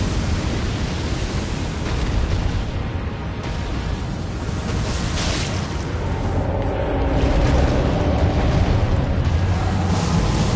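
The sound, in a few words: fire breath attack from a boss in video game Elden Ring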